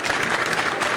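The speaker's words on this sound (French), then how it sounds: "On applaudit encore une fois." A crowd applauds a performer at a human-rights event in Morocco, a dense continuous wash of clapping, loud and close, with no pauses.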